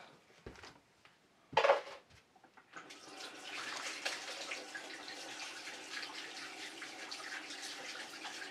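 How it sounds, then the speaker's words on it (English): Tap water runs steadily into a sink while hands are washed, a soft, close splashing hiss that begins after a few brief knocks and clatters and continues to the end. "I'm just going to wash my hands."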